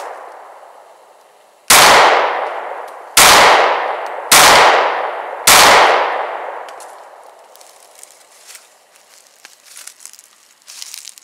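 Four loud, close shots from a Walther PPS pistol ring out in a steady rhythm at a shooting range, each with a long echoing decay, followed by faint metallic handling noises as the shooting stops.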